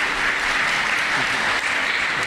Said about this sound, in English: Please give everybody a round of applause